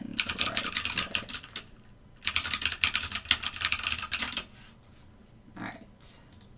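Quick clattering keystrokes on a computer keyboard come in two dense bursts with a pause between, close and clear, followed by a few scattered taps.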